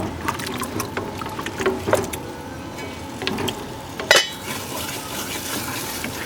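A spoon stirs potato curry with spices in a pot, making wet scraping and sloshing strokes in an irregular rhythm, with one sharper knock near the end.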